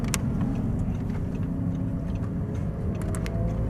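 Audi R8 driving on a race track, a steady, loud engine rumble heard from inside the car with a few faint ticks and clicks over it.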